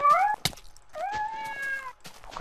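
A Minecraft cat gives two clear, close meows separated by a short thump, each a bright rising-and-falling cry standing alone in the game.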